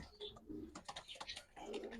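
Giribaz highflyer pigeons cooing in a loft, a few soft, close coos spread over a couple of seconds with no talk.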